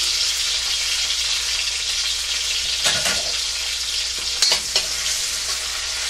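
Garlic and onion fry in a pan for a pepper steak, giving a steady close sizzle with no talk; a couple of brief stirring clatters break through near the end.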